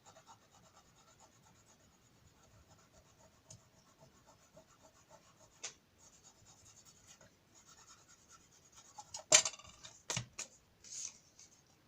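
An eraser rubs shiny glue residue off paper in quiet, faint scratchy strokes. The strokes come in short bursts and grow louder and more vigorous toward the end.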